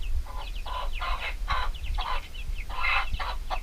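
A broody mother hen being picked up and held, giving agitated clucks and squawks in an uneven series of short calls, close and moderately loud.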